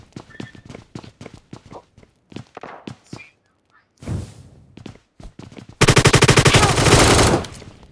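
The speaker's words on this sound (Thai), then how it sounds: "ผมยิงลูกซองมันโดนเลยมัน" Gunfire in PUBG Mobile includes a shotgun among rapid shots: a run of sharp reports, a short burst, then a loud sustained volley at the end, all close and loud.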